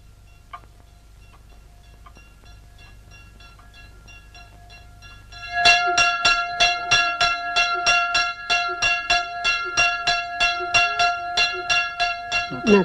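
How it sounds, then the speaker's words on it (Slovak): A church bell rung by hand by an elderly bell-ringer: after a quiet stretch, loud resonant strokes start and repeat in a steady, even rhythm, ringing close and clear. "Na tomto zvone nevie nikto zvoniť, iba ja."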